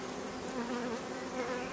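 Honeybees buzz inside an opened beehive, a steady, dense hum of many wings close up, droning continuously without pause.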